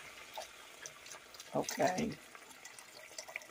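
Liquid pours into a pot of potato soup in a short, soft splashing gush near the middle, with a brief spoken word beside it and quiet room tone otherwise.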